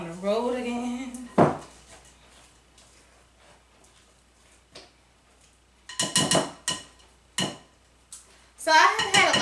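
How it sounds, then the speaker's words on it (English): A spatula scrapes cake batter down the sides of a mixing bowl in short, sharp bursts of scraping and clatter, with a voice speaking briefly at the start. "Scrape the bowl down again"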